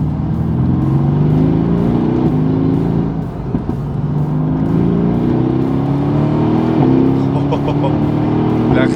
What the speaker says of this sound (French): vous avez un petit crapotement au passage de rapport